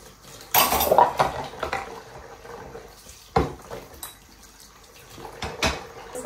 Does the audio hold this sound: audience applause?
no